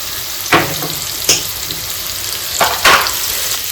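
Onions frying with a little salt in a pan, a steady close sizzle with several sharp stirring scrapes across a few seconds, no talk.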